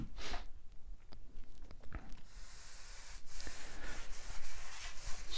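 A brush rubbing across the board surfaces of weathered outdoor wood furniture while applying finish, soft scraping strokes repeated at an uneven pace, close and moderately quiet with no talking.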